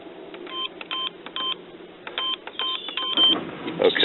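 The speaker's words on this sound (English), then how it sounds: "bear with me while I do the keypad" A gate keypad beeping as a code is entered, a series of short electronic tones in an irregular rhythm, close and fairly quiet, ending in a brief louder burst of tones.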